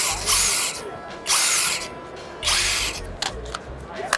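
A FLEX impact wrench runs in three loud close bursts of rapid hammering rattle, with brief pauses between, followed by a few shorter clicks and taps.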